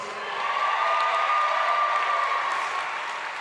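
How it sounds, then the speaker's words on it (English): A graduation audience at Lincoln University applauding graduates' families, a broad, steady wash of crowd clapping that stays even and fairly loud throughout, with no voices standing out. "Let's give them a big round of applause."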